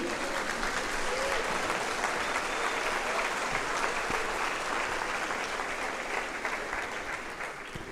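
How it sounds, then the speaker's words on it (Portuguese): A congregation at an evangelical church service claps to praise the Lord, producing dense, sustained applause that holds steady and loud for the whole stretch before easing slightly at the end. "amém, aplauda o Senhor, Ele é digno"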